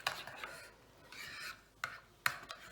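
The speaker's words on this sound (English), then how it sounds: "Give it another stir." A spoon scrapes and swirls through creamy pasta salad dressing in a bowl, soft rubbing strokes broken by two sharp clicks against the side, close and fairly quiet.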